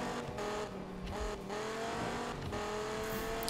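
A Dodge Viper races in a Need for Speed game, its engine revving and droning near and loud, pitch climbing and shifting through gears with brief dips between.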